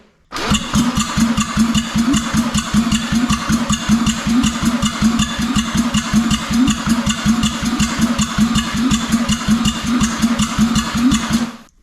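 A Mazda RX-7 FC rotary engine cranks on the starter during a compression test, giving a steady, rapid, even chugging pulse that runs loud and close for about eleven seconds without firing.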